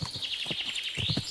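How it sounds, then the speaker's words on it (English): A loud bird calls repeatedly in Kingdom Come Deliverance II, a steady high chirping trill over a series of close, rhythmic low thuds like hoofbeats. "Wow, that was a loud-ass bird."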